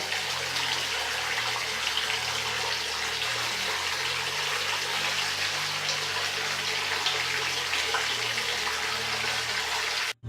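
A large bath bomb fizzes in a filled bathtub, giving a steady loud hiss and bubbling of water that runs unbroken for the whole stretch with no talk.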